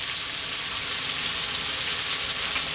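Potatoes frying in a pan for a dry Bombay potato curry give a loud, steady, close sizzle with no pauses or talking.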